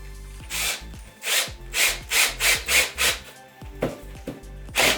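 Power drill boring into a wooden 2x2 divider, a series of about nine close, loud whirring bursts, each spinning up and down with short gaps between.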